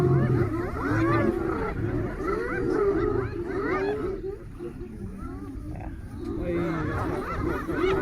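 Lion growls and snarls on wildlife footage, repeated rough low roars over a continuous noisy background, with people talking over the animal sounds.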